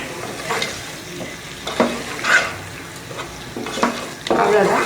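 Pepper masala chicken with coriander leaves and curry leaves is stirred in a pan, with scraping strokes and a soft sizzle coming in bursts, close up. A brief spoken word is heard near the end.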